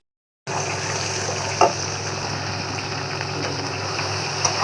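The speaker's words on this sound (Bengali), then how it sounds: "পেঁয়াজ একটু পানি দিচ্ছি, তেল দিচ্ছি তো অনেক, পেস্ট একটু লাল লাল হোক।" Spice paste with onion, water and a generous amount of oil frying in a pan for beef nehari, giving a steady, close sizzle that runs unbroken with a couple of brief clinks and no talk.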